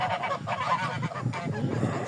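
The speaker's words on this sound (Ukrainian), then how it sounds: "Це та гусиня, що чуть її не вбили." Injured goose that was nearly killed, its neck torn, honking steadily and loudly at close range in a rough, repeated series with no voices over it.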